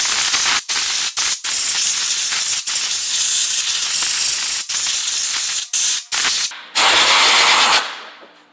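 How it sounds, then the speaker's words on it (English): Compressed air blasting dirt off the valve cover of a Ford 5.4 L engine during disassembly: loud, broadband hissing bursts repeated in quick succession with short gaps, ending in a longer blast that trails off. "if you can take and blow that out of there with compressed air"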